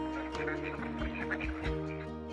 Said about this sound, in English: Did you know Gilly is silly?" they quacked